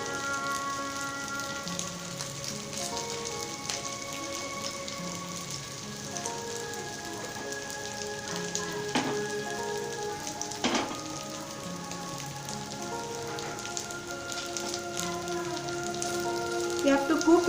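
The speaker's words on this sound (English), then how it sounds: "We have to cook it in a medium flame so that the meat and the potatoes which are raw will be cooked" Raw meat and potatoes sizzle and crackle steadily in a pan over a medium flame while cooking charppa, a soft continuous frying hiss with occasional sharper pops.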